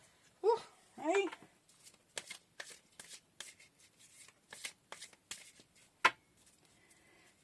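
Tarot cards being shuffled at close range in short, soft riffling bursts, with a voice speaking briefly between them.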